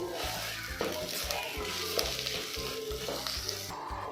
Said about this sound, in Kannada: ಹಾಕ್ಕೊಂಡು ಹಸಿ ವಾಸನೆ ಹೋಗೋವರೆಗೂ ಚೆನ್ನಾಗಿ ಫ್ರೈ ಮಾಡ್ಕೋಬೇಕು